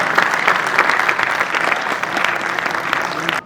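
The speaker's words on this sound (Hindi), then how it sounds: "जोरदार तालियों से उनका इस्तकबाल किया जाए" A poetry gathering's audience breaks into loud, dense applause to welcome a poet from Burhanpur. The clapping is close and sustained and runs on evenly before cutting off abruptly.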